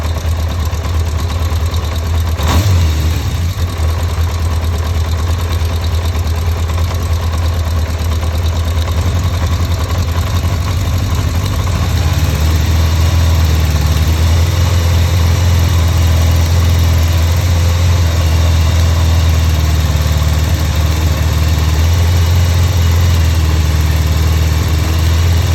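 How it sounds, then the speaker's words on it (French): A motorcycle engine idles steadily as it warms up, a close, loud, continuous low rumble with a single sharp click early on and no voices. "On va laisser la moto chauffer un peu."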